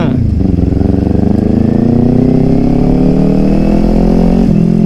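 A Kawasaki Ninja 400 motorcycle accelerates as the throttle opens, its engine note climbing steadily in one long loud rising pull, close to the rider, with wind rush and a voice speaking over it.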